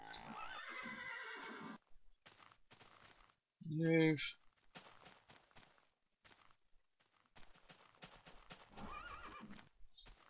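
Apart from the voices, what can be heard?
horse neighing and hooves in a video game (Minecraft)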